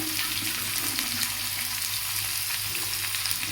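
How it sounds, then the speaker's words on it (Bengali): Cut potatoes frying in hot oil, a loud, close, continuous sizzle with steady crackling all through and no voices. "নালে তো এরপরে তেলের মধ্যে চটপট চটপট করতেই থাকবে এর আলুটা"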